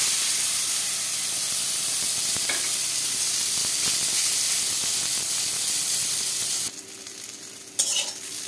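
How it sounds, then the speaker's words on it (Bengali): Eggplant fries in hot mustard oil with a loud, continuous close sizzle and hiss, with occasional stirring knocks. Near the end the sizzle drops sharply and a few scrapes follow. "আর এই বেগুনটা আগে ভেজে তুলে নেব।"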